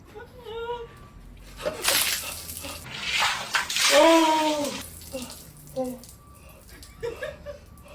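A load of water is dumped over a person all at once during a balloon penalty game, a sudden heavy splash that drains off. Voices talk and laugh before and after.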